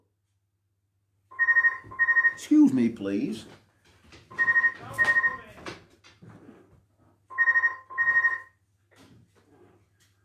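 A landline telephone rings in three double bursts, loud and close, with people talking over and between the rings.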